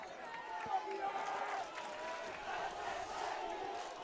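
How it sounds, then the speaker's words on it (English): Crowd at a varsity high school football game against Bridgewater-Raynham erupting in a sustained roar of cheering from the stands, heard at a distance under a commentator's voice. "You can hear the eruption for the BR crowd on that one."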